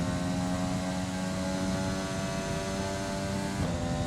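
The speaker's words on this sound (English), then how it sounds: "can you just hear the engine? It just sounds like it's maxed out too early." Formula 1 car engine in F1 2020 at Silverstone, a sustained high-revving drone held flat and steady as if near the rev limit, with a brief pitch shift near the end.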